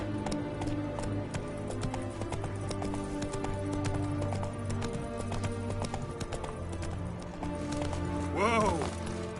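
Geralt's horse Roach gallops in The Witcher 3, a rapid, steady clip-clop of hooves running throughout over game music and ambience, with a short burst near the end.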